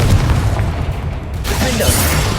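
A Confringo spell explosion bursts in Hogwarts Legacy on PS5, a loud, close, dense blast with rumbling low end filling the whole moment.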